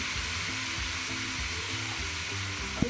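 Onions frying in a pan until golden for chana pulao, a dense steady sizzle with a low bubbling rumble underneath, close and continuous, ending with a brief clink.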